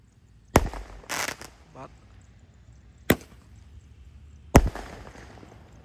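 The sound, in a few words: firecrackers exploding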